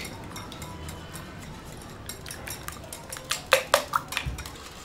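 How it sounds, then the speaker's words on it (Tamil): Eggs beaten with turmeric, pepper and chilli powder in a bowl for Egg 65; a utensil clinks against the dish in quick, uneven strokes that grow louder and denser toward the end. "மஞ்சள் தூள், மிளகு தூள் இதெல்லாம் சேர்த்து நல்லா அடிச்சுக்கோங்க."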